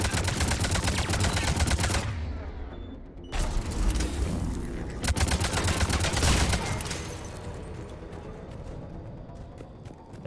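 Heavy automatic gunfire in a Mass Effect 3 battle aimed at an enemy turret, loud rapid bursts in several runs broken by short pauses, with booming impacts and a fading tail.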